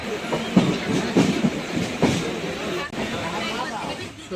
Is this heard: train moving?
yes